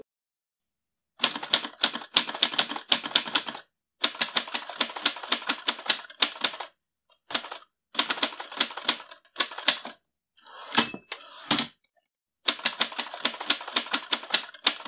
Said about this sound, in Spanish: Vamos a escuchar cómo suena una máquina de escribir.